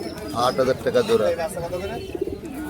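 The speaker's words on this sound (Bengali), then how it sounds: "আর এগুলা কি কবুতর ভাই?" Pigeons cooing at a crowded pigeon market, soft repeated coos close by with someone talking over them.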